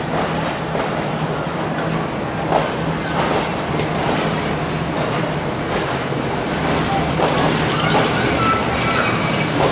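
An early-morning passenger train runs along the rails during heavy monsoon rain, a dense continuous rumble with faint rhythmic clatter throughout and a low steady hum beneath.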